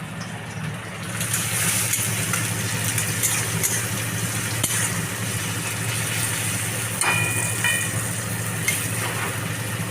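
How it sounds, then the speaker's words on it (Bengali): Bitter gourd frying in a pan with salt and turmeric gives off a steady, close sizzle that holds evenly for the whole stretch, with a few faint clinks and stirring sounds. "ভাজা হচ্ছে একটু সামান্য লাল লাল করে ভেজে ভাজতে হবে এটাকে"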